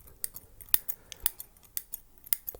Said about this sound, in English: These highly sensitive scissor sounds are hopefully good.